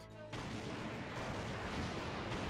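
Explosions in the Metal Wolf Chaos XD video game, a sudden blast that swells into a dense, sustained roaring rumble lasting a couple of seconds.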